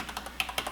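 Typing on a computer keyboard: a quick, close run of about six crisp key taps in under a second, heard alone with no speech.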